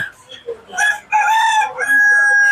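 Roosters at a live chicken market crow loudly and close, with several drawn-out cock-a-doodle-doo calls overlapping and a few clucks and faint murmurs underneath.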